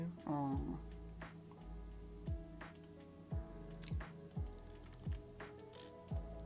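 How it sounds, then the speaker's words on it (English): Computer keyboard keys click in a sparse, irregular series of soft ticks, close but quiet, over a faint steady hum and low descending tones. "I click the print screen button on my keyboard"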